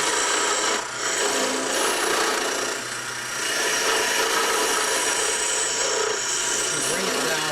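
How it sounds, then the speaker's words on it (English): A half-inch round nose scraper cutting wood turning on a lathe gives a loud, continuous rasping scrape up close, dipping briefly twice as the tool eases off the spinning workpiece. "So we'll move now to the half-inch round nose scraper,"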